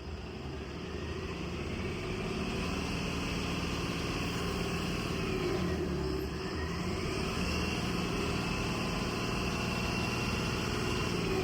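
The engine of a Tata 1822/69 13.5 m AC seater-sleeper bus responds to the accelerator with a steady, fairly quiet low drone that holds evenly throughout.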